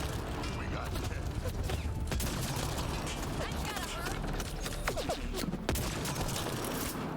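Sniper rifle shots ring out in Mass Effect: Andromeda, with a couple of sharp cracks standing out amid dense game combat noise and mechanical clatter.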